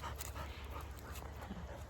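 A tired dog panting close by in quick, steady breaths, with faint whimpering edges and no talking.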